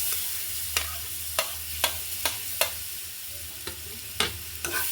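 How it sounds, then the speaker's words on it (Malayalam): Ripe plantain being stirred and sautéed in a pan, with a soft sizzle under roughly ten sharp spatula scrapes and taps at an uneven pace. "നല്ലോണം നമുക്ക് പഴം വാട്ടിയെടുക്കാം കേട്ടോ"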